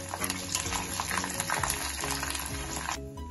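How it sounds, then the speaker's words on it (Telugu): Garlic fries in hot oil with spluttering mustard seeds for Andhra-style gongura pachadi, making a dense close sizzle with crackling pops and stirring, which eases near the end. "ఆవాలు చిటపట్లు అంటున్నప్పుడు నాకు వెల్లిపాయలు అంటే ఇష్టము, ఇది వేసుకుంటున్నాను"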